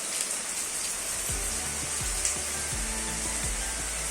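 Steady rain falling and pattering on surfaces outdoors, a dense continuous hiss with no talk, and a low engine-like hum running underneath.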